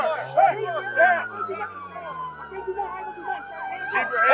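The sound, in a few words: police car sirens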